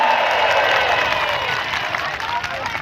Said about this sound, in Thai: ขอเสียงตบมือเป็นกำลังใจให้กับจารย์ชินวัตรครับ